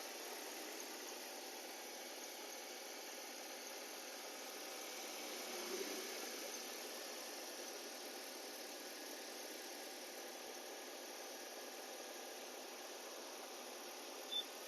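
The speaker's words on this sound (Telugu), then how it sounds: "ఇంజన్ సౌండ్ కూడా వింటున్నారు కదా, ఎంత సైలెంట్ అయితే ఉందో" A 2006 Ford Ikon car engine idling very quietly, a faint, even hum running steadily throughout with no revving.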